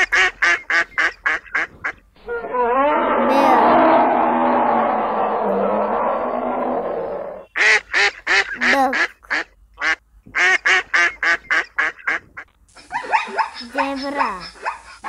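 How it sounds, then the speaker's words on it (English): Loud, rapid bursts of duck quacking come in quick runs, broken by a long stretch of harsh, noisy calling in the middle. "Duck."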